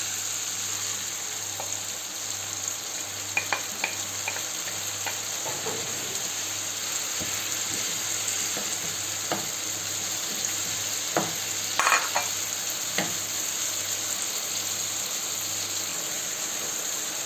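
Peppers and tomatoes frying in a paella pan, giving a steady low sizzle with occasional stirring scrapes and small pops, close and fairly quiet, with no talking.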